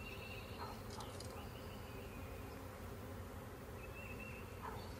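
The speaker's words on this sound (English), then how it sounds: "These bees right here are fanning their wings, got their little butts up in the air." A honeybee swarm fans its wings while being hived, a continuous low, even buzz with a few nearer individual bees passing briefly over the drone.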